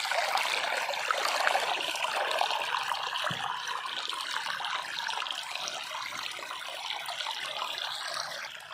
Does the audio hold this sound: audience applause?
no